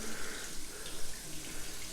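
Hot water from a newly installed solar water heater gushes from a tap at good pressure, a steady close hiss and splash with no talking.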